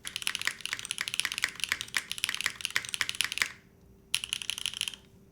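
Rapid clacky typing on a modded SAT75 X mechanical keyboard, a dense run of keystrokes that stops briefly, then resumes in a shorter burst.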